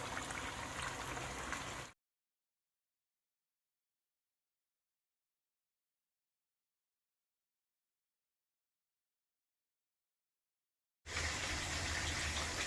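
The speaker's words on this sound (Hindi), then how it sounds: "इस तरीके से मैं सारी फिश अच्छी तरह फ्राई कर लूंगा।" Crispy Lahori masala fish frying in hot oil gives a dense, steady sizzle in two short bursts, one at the start and one at the end, with a long stretch of silence between.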